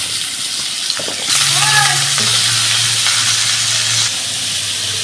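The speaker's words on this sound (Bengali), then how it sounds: "পটলের সঙ্গে আমি আলুটাও ভেজে নেব" Pointed gourd and potato pieces frying in hot oil in a pan, a loud continuous sizzle with a low hum beneath and a brief whistling tone partway through, no speech heard.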